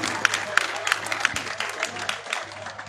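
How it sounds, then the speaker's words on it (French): Villagers at a youth festival in Ketekre-Bonikro, Toumodi, applaud the event's sponsor, scattered uneven clapping with a few sharp claps standing out and a low hum underneath. "Je voudrais qu'on applaudisse pour lui"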